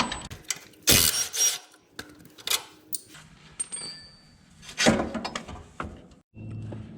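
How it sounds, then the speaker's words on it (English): Metal clanks and ratcheting clicks from a 15mm socket and 15mm wrench working the shock bolts on a Can-Am Renegade ATV, arriving as scattered close, moderately loud taps and rattles with brief pauses between them. "You're going to need a 15mm socket and your 15mm wrench."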